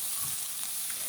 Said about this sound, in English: I'm just wanting to saute and soften up the mushrooms